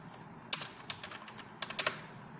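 Typing on a computer keyboard, a close, quiet run of irregular key clicks with a few sharper taps, and no voices over it.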